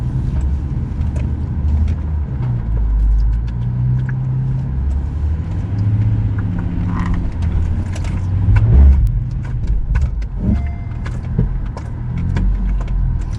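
An AWD Honda Passport climbing off-road rock at Fins N Things in Moab, its engine laboring and surging in uneven bursts up close, with tires crunching and scraping over the rock.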